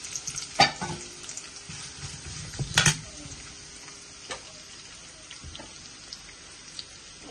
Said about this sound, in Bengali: তাহলে মাশরুম ভাজি বুয়াই দিলাম, অয়েল গরম হয়ে গেছে